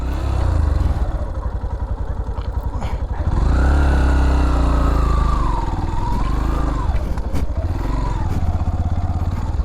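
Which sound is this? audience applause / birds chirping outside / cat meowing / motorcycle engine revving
motorcycle engine revving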